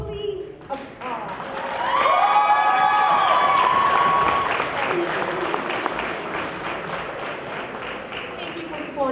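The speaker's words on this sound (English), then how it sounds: "Please applause." Applause at a charity prom fundraiser, with a crowd clapping and a few cheers rising into a strong swell, then easing into scattered clapping. A whistle or excited voice cuts through near the start.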